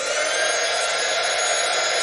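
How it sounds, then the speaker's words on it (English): A heat gun blows with a loud, steady, hissing roar that holds unchanged throughout, close by, with no other sounds. "so I'm just going to bring my heat gun, turn it on."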